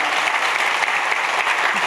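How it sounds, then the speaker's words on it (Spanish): Steady applause from a church congregation, dense and continuous throughout, with no talking over it. "denle un aplauso al Señor"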